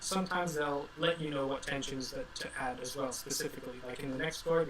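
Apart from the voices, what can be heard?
None of the usual background noises is heard.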